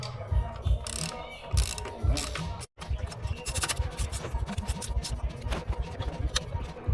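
Ratchet tightening a bolt on a ZD30 engine during a rebuild, close, rapid clicking strokes in short bursts with brief pauses between, a faint voice in the background.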